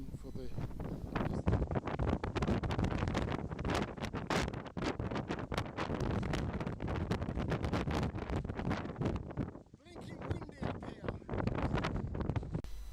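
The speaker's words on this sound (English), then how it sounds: "It's blowing a gale though." Gale-force wind batters the microphone on an exposed fell walk near Kidsey Pike above Haweswater, a constant loud roar with heavy buffeting gusts that dip briefly before surging again.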